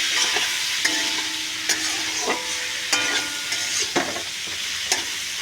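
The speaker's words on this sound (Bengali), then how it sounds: "এবার এর সঙ্গে একসঙ্গে সব ভেজে নেব।" Fish frying in a pan with turmeric and Kashmiri chilli powder, a dense close sizzle with periodic spatula scrapes and taps about once a second, no voices.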